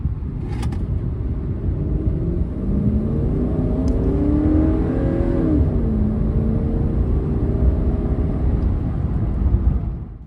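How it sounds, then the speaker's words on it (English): A 2001-07 Toyota Sequoia or Tundra engine runs at full throttle while entering a freeway, with a loud, steady roar and a whining tone that climbs and shifts through the gears. "While entering the freeway, push the gas pedal all the way down to the floor so you can really put the engine and the transmission"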